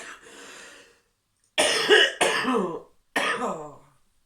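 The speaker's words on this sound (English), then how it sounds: "my cough is back in full force" A soft raspy throat clearing, then three sharp, harsh coughs in quick succession, close and loud, with short pauses between them.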